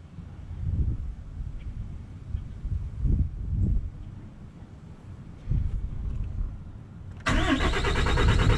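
A Ram truck's Cummins 6.7 diesel engine, just after a fuel filter change, gives several rumbling cranking pulses and then catches and roars into a loud, steady idle near the end.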